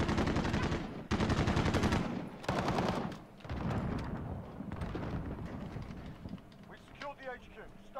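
Rapid gunfire bursts from a KAR98K-armed match of the video game Modern Warfare, loud sustained shooting and explosions early that thin out to scattered shots, with voices talking over the action.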